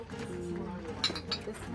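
Glasses of soju clink together in a toast at a home meal in the countryside, a couple of light, bright clinks amid voices talking close by.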